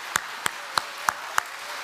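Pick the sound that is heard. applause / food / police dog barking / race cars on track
applause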